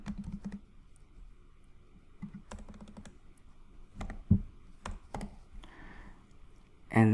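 Typing on a computer keyboard, quiet irregular bursts of key clicks at close range, some quick runs and scattered single taps.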